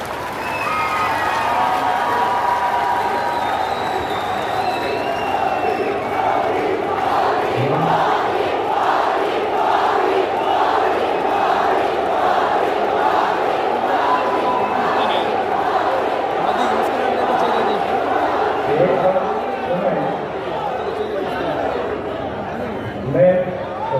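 A large crowd at a Rajasthan political rally for the Prime Minister claps and cheers steadily, a dense continuous roar of applause with scattered shouts that holds at the same loud level throughout.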